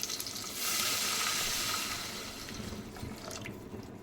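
Water poured into a pot of chicken yakhni stock for pulao, a steady splashing gush that swells and holds for about a second and a half before tapering into softer bubbling and trickling, close by with no talk.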